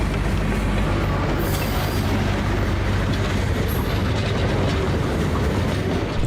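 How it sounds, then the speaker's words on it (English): A miniature park train rolls past, its wheels clicking steadily over the track joints in a continuous rattling rumble, fairly close and loud, with no voices. "You get that clicking noise of the wheels on the tracks like you would a real train going by."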